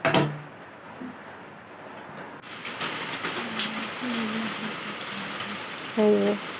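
Rain falls in a steady hiss, joined by a few soft clunks and faint tonal chirps.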